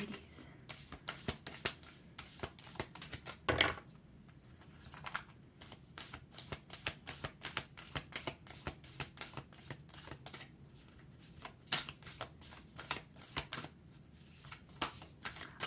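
Tarot cards are shuffled close up in a rapid series of crisp riffles and slaps, repeating almost continuously with brief pauses.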